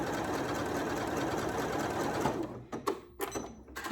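A Janome MC9450 sewing machine stitches fabric in a steady continuous whir that runs for a few seconds, then stops and gives way to a few short stuttering bursts.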